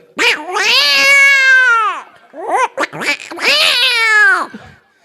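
A man imitates a cat with two long, drawn-out wailing meows, loud and close, the first held about two seconds, then a few short chirps before a second rising-and-falling yowl.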